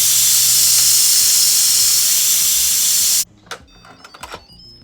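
A pressure cooker that has just finished cooking pork chops vents steam in a loud, steady hiss for about three seconds, then cuts off abruptly, leaving faint clicks and rattles.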